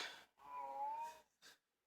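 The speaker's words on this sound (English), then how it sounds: "I've decided that yowling cats are just going to be a part of my signature" A cat gives a drawn-out, wavering yowl, quiet but close, bracketed by short breathy noises and ending in silence.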